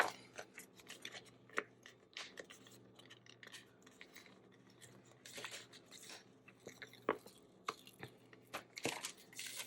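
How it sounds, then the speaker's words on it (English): Scissors snip and trim planner paper in repeated short cutting strokes, with faint paper rustling between cuts and louder clusters of snips near the end. "And then this one, we're going to trim, give it a little bit more room this time."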